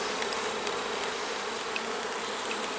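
Dense, steady buzzing of many honey bees in a hive full of drones, continuous and close, with no voices.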